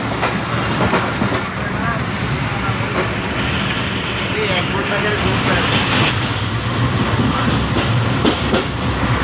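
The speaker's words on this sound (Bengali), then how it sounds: "আর এই যে ট্রেন চলছে" A moving train on a homeward journey rumbles steadily throughout, with continuous wheel clatter and rail noise up close and a faint high squeal at times; voices and crowd chatter can be heard inside the carriage.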